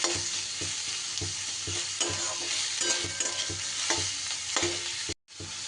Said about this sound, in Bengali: পেঁয়াজটাকেও কিন্তু খুব সুন্দর করে একটু ভেজে নিতে হবে।